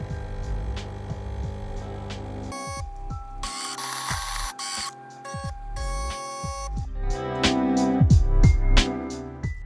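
A De'Longhi Rivelia espresso machine brews an extra shot with a loud, steady electric pump hum and whine, broken by short gaps and grinding bursts, then rising in a rhythmic pulsing drone, up close with no voices.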